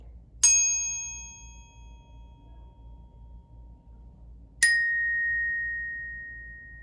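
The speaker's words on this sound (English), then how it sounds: "If we simply play a note, it will continue ringing until the vibrations stop." Two separate bell notes are struck and left ringing, each a bright sharp strike that decays slowly over several seconds against a faint low background hum, the second note higher and longer-sustaining.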